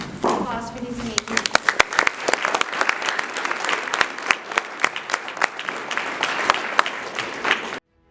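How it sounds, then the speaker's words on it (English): Applause fills an awards ceremony hall, many hands clapping continuously and briskly with a few sharper individual claps standing out, while a voice speaks briefly at the start before the clapping takes over. "Applause for these amazing."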